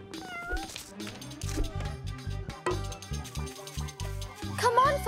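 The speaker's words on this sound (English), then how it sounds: "You're one naughty cat!" A cartoon cat meows playfully over lively background music, giving a few distinct, close mewing cries. Cartoon voices may also be heard.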